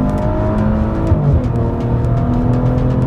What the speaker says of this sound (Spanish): Pongo modo sport, lo acelero más o menos a 2000 revoluciones.